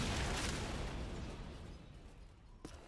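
Grenade explosion in the video game Call of Duty 4: Modern Warfare, a loud, rumbling blast already underway that slowly fades and thins out, followed by a single short sharp pop near the end.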